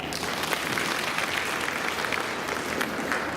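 Audience applause at a village resolution meeting for a Beti Bachao event at Devlali Pravara: a dense, steady roar of many hands clapping that holds at an even level throughout, with no voices over it.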